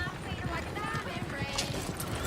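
Horses gallop with steady clip-clop hoofbeats in the Red Dead Redemption 2 video game, a dense rhythmic patter under a continuous background wash and occasional voices.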